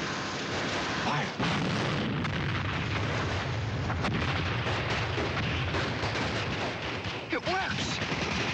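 Gunfire and blasts from a 1953 war film, rapid overlapping shots and booming explosions in a continuous loud barrage with rumbling low impacts throughout, close and dense.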